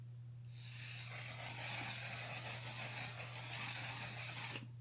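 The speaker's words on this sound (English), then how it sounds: "I'm going to use this One Size setting spray." A One Size setting spray mist sprays continuously for about four seconds during a makeup application, a steady close hiss over a low constant hum.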